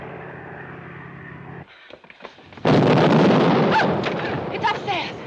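Bombs fall and explode in a 1944 war film: a steady aircraft drone gives way to a brief lull, then a heavy, sustained roar of blasts and rumbling debris fills the rest of the scene.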